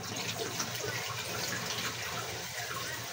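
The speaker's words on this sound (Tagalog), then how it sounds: "Buhos natin itong sabaw." Broth is poured in a steady, continuous splashing stream that runs unbroken throughout at moderate loudness.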